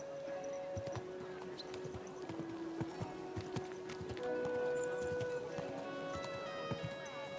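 Hooves clip-clop at a steady walking rhythm on a road in Kingdom Come: Deliverance II, close and fairly loud, with tonal music lines and scattered knocks mixed in.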